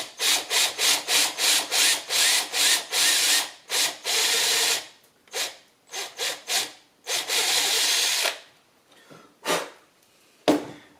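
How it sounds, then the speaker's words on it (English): A drill bores clearance for screws during an instrument cluster conversion on a 1976 Mazda RX-5. Close, harsh grinding comes in a quick run of short rhythmic bursts, then longer passes and a few isolated strokes. "I think I can just drill a bit, make some clearance."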